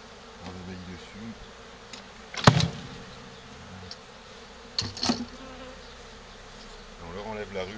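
Honeybees buzzing steadily at a low level while being moved from an old Dadant hive box, broken by two sharp knocks and clatters from handling the hive.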